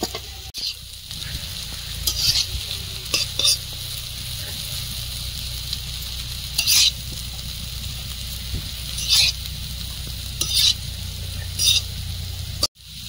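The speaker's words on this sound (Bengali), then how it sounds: "চাউমিনের সঙ্গে সব মিশিয়ে নেবো" Chowmein being stirred and mixed in a wok while packed tiffin meals are prepared, with repeated scraping strokes at irregular intervals over a low steady hum, fairly close.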